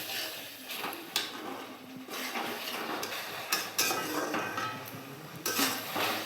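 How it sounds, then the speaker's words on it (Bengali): Egg curry being stirred in a pot with water just added, a spoon scraping and clinking against the metal in irregular knocks over a low wet rustle, close and moderately loud with no talk. "জলটা দিয়ে একটু ভালো করে নাড়িয়ে নিচ্ছি"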